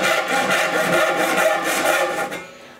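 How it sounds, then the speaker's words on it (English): Hand saw cutting through a knot in wood, a steady, close rasping stroke repeated for over two seconds before it trails off quickly. "I'm actually gonna try to saw right through the knot."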